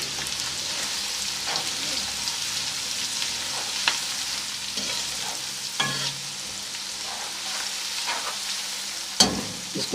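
Onion frying in a pan with ginger and garlic added for a cauliflower chicken dish, a steady close sizzle with occasional stirring clicks and scrapes, no talking.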